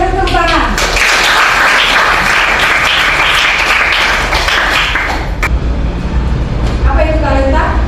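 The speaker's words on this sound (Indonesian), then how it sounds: "Kita berikan tepuk tangan." Audience of classmates and teachers applauds in a class session, a loud dense burst of clapping that fades after a few seconds, with a speaker talking before and after.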